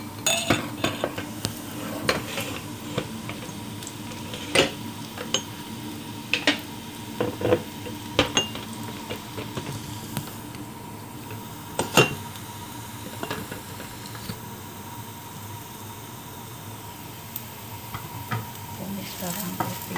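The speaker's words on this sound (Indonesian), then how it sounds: "Tumis bawang putih. Tumis bawang putihnya." Garlic sautéed in a pan for a chicken breast and pumpkin dish crackles with a steady sizzle, while a spatula scrapes and clinks against the metal at irregular intervals. No one speaks.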